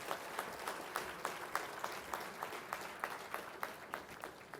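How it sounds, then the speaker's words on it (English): An audience at a 2025 department degree ceremony applauds its MS graduates with steady, rhythmic clapping. The claps are moderately distant and evenly paced, with no talking over them. "Let's give a big round of applause to all of our MS graduates."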